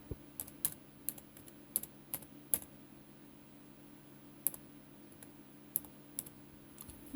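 Faint, quiet keystrokes tap on a computer keyboard at a Windows XP machine, with irregular clicks spread over several seconds above a low steady hum.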